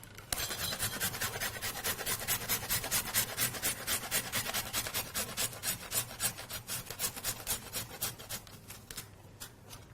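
Zucchini rubbed briskly against a grater, rapid rhythmic rasping strokes repeated evenly and close up, slowing at the end, no voices.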